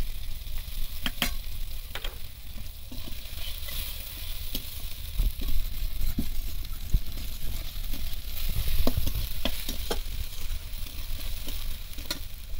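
Okra and tomato masala with chili powder frying and being stirred in a pan, a steady close sizzle broken by scattered scraping clicks of the spatula, with no talking.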